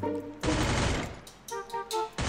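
Rapid bursts of P90 submachine gun fire in the Free Fire game, loud and close, cutting in and out in short volleys.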